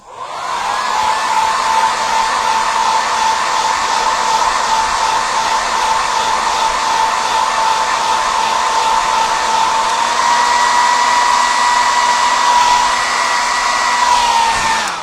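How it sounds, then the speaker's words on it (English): A hair dryer blows continuously and loudly, a steady whirring hum with a high whine that holds level until it shuts off. "we're going to grab a blow dryer because we need it dry"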